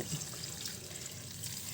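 Water poured into a pan of simmering chicken, a continuous splashing, trickling wash at moderate level with no talking.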